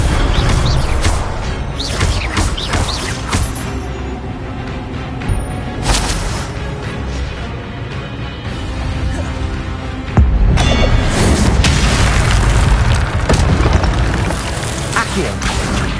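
Fire spell cast in the Hogwarts Legacy video game, a dense burst of booming, crackling magical blasts that swells loudly around the tenth second over continuous game effects and music.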